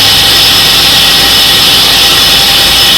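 Belt grinder motor running steadily after a noise fix, a continuous close whine and whoosh with a bright hiss, even and unbroken throughout with no talking.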